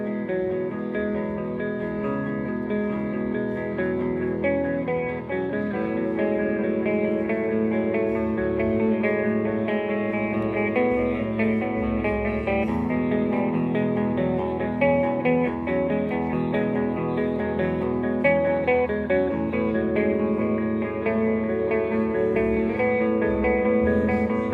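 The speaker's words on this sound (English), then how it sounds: "the modulation delay side is it incorporates tremolo and chorus on the repeats" Pigtronix guitar pedal running modulation delay with tremolo and chorus applied to the repeats: lush, continuous electric guitar tones with wavering, shimmering echoes trailing each note, steady and fairly loud throughout.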